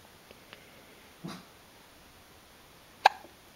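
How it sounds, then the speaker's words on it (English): Infant hiccups indoors: two or three short, sharp, isolated hiccup bursts spaced over a few seconds, close and fairly soft against a quiet, hissy room background, with no talking. "Dang, I get the hiccups."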